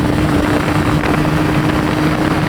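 A Honda CBR150i motorcycle with its muffler and catalytic converter removed drones steadily on a test ride, with a continuous engine hum under heavy wind roar.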